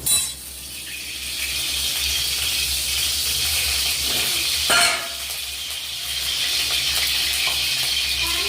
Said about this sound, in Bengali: তেল গরম হয়ে গেছে, এবার সবগুলো আমি একসঙ্গে ভেজে নিচ্ছি